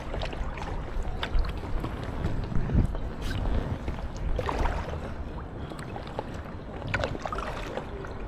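An Aquaglide Cirrus inflatable kayak is paddled through a flooded River Ouse in York, past crane stanchions at a quay. Soft irregular paddle splashes and water wash sit under steady wind noise, with no talking.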